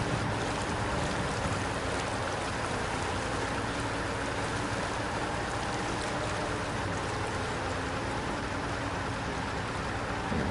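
A heavy truck in the game SnowRunner ploughs across a river on hard mode, a steady rushing wash of water and churning splash over a low engine drone, continuous and close with no talk.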